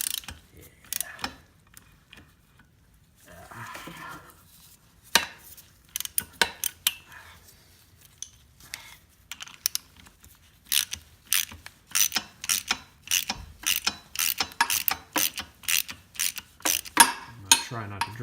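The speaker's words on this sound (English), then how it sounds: "So now I should be able to back this off." A ratchet loosens a nut on the clutch of a Garelli Super Sport moped with a NOI engine. Rapid clicking comes in bursts, starting sparse and then growing into a steady, close run of sharp ticks, with no talk.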